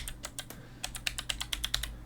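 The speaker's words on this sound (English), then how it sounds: "I'm going to type in my password." A dozen or so quick keystrokes tap out a Wi-Fi password on a computer keyboard during Windows 11 setup, crisp and close, in an uneven rhythm with a low hum underneath.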